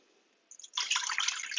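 A cup of water is poured into a cooking pot for steaming eggs. A faint trickle starts and then becomes a steady, close splashing pour that runs on without voices.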